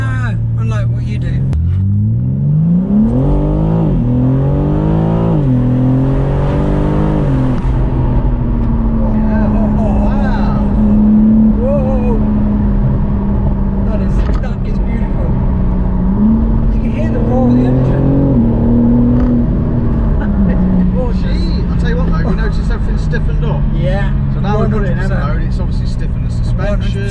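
A 2021 BMW M4 Competition pulls hard on the road. Its loud, rumbling engine revs up early on, then holds a steady, droning pull heard close from inside the car for the whole stretch.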